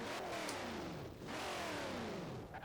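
A high-powered twin-engine car in Forza Horizon 4 launches from a standstill, its engine note climbing in steady rising sweeps, loud and close, with a brief dip before revving up again.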